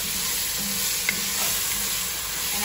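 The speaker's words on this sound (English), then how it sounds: "I like to saute my spinach" Spinach sautéing in a hot pan while being stirred for a creamy sun-dried tomato pasta, a steady close sizzle throughout with a faint scrape of the utensil, no talking.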